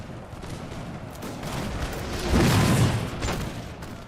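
A dense, continuous roar of musket volleys and booming artillery from a large Napoleon Total War online battle, building to a heavier rumbling peak midway before easing off, with no voices.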